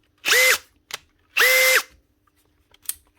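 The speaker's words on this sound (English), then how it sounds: "Slow speed drill mode." A worn compact Makita DHP483 cordless drill whirs in two short bursts at low speed, each under a second, with small clicks and knocks in the pauses.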